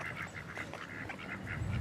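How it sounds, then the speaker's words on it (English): Ducks at a local park after a rainy day give a few faint, repeated nasal quacks at a distance over soft outdoor background noise. "And look at the ducks."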